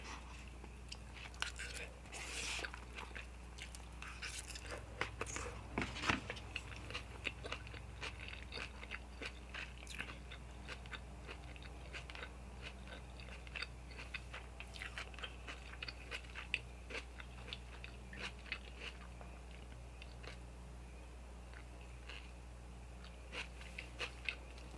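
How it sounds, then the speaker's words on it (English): Chewing and biting on Chipotle food during a mukbang, with close, steady mouth sounds and small crunches continuing throughout under a low constant hum. "Can't chew and do this at the same time."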